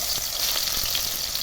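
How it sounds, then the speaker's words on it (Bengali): Soybean chunks coated with salt, turmeric and spices fry in hot oil, producing a steady, dense close-up sizzle with faint intermittent crackles and no voices. "এবার আমি সয়াবিনগুলোকে ভেজে নেব"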